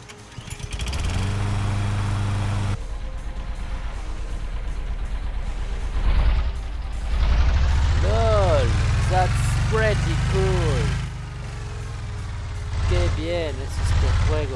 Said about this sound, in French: Donc on a un nouveau bateau à moteur